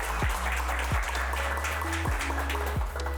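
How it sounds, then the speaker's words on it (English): Audience applause at a tech talk on server-side programming, a broad steady clatter of many hands under a few low thumping bumps, with no talk over it. "Round of applause, please."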